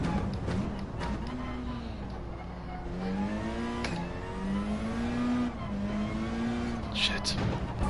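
Rally car in Gran Turismo 7, with a steady engine drone and a whining pitch that rises and falls as the car brakes and accelerates through a turn, under someone talking.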